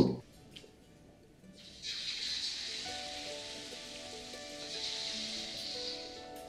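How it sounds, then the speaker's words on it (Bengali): Fish pieces pan-frying in oil for a chilli fish dish, a soft bed of sizzle that swells after a quiet start and then holds steady and close, with no voices. "একই পদ্ধতি ফলো করে আমি বাকি মাছগুলোকেও ভালো করে ফ্রাই করে নেব"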